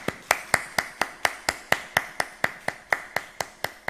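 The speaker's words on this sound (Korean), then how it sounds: "우리 힘차게 격려의 박수 올리겠습니다." Congregation at a Korean church Sunday service claps together in a steady, evenly spaced rhythm, roughly four claps per second, moderately loud and close, with no talking over it.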